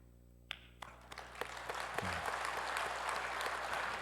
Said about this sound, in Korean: 우리 박수로 위로하고 격려하도록 하겠습니다.